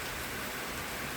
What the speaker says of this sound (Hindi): बारिश हो रही है, बाहर जाओगे?